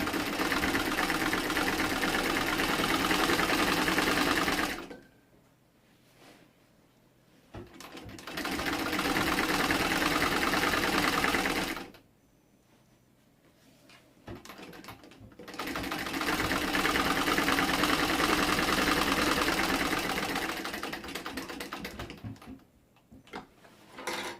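A sewing machine stitches an apron made from curtain fabric in three long, loud, close bursts of rapid needle chatter, separated by short quiet pauses.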